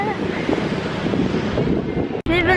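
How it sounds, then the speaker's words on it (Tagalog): Heavy wind buffets the microphone in a constant rough roar, briefly cutting out near the end before resuming under a faint voice. "Uy, mahangin."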